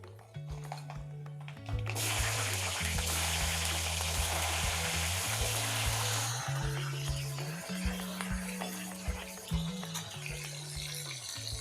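Loud, steady sizzling of shallots dropped into hot oil, bursting in suddenly and continuing close up under a low hum.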